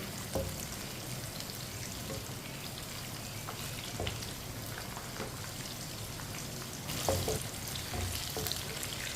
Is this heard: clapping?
no